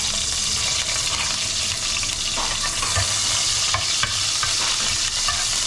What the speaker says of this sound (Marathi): बापरे, किती तडतडतंय